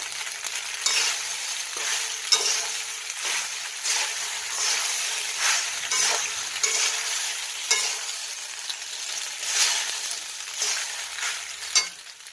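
Food frying in a pan with a steady bright sizzle while a utensil stirs it, giving repeated scraping strokes every second or so, close and alone with no talk.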